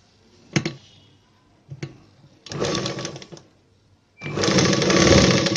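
Sewing machine stitching a blouse, running in several bursts: two short taps, then a longer run and a sustained loud whirring stretch at the end, close and clear with no talk.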